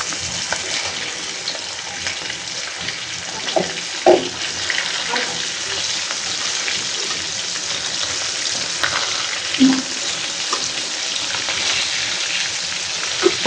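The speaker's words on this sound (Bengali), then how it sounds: "এক পিঠ ভাজা হয়েছে, মাছটা উল্টাই দেবো" Tilapia fish frying in hot oil just after being flipped: a steady, close, hissing sizzle with scattered pops and a couple of sharper clinks, no voices.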